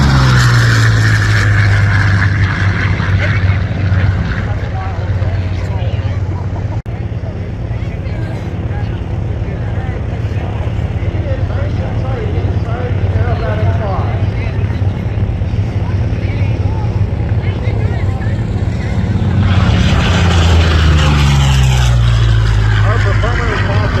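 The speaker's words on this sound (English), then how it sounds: "Another beautiful photo pass by Tom in the P-40" A P-40 warplane makes a photo pass at an air show, a loud sustained engine drone that rises as it nears and sweeps away at the end, with an announcer talking over it.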